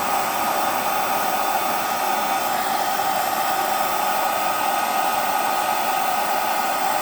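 A hair dryer blows air onto an action figure joint, a loud, steady continuous whoosh of airflow with no voices.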